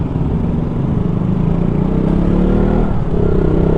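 A KTM Duke 200 motorcycle engine drones loudly and steadily while riding uphill, a close, rough rumble with slight shifts in pitch and no talk.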